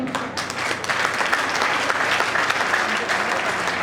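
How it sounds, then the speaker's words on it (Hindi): Crowd at a Digambar Jain community ceremony breaks into loud, vigorous applause, thick continuous clapping close by with a low hall rumble beneath. "मैं आज के उनके लिए इतनी जोरदार तालियां"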